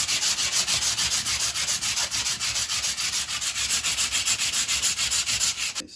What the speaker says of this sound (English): I am currently sanding again the wall